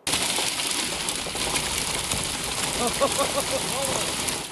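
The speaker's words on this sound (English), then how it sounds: "Severe storms moved across the Mid-South on Thursday, bringing some pretty large hail to the region." Large hail pours down during a severe Mid-South thunderstorm, a loud, dense, continuous rattling and pattering that fills the whole stretch without a break.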